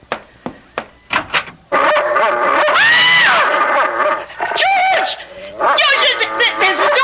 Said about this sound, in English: George, there's a dog on our bed. A horrible big dog.